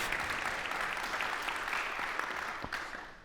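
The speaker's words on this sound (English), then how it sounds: "that definitely deserves a round of applause." A studio audience at a live political conversation between Ash Sarkar and Zack Polanski breaks into applause, a thick continuous patter of clapping that stays loud and even for the whole stretch.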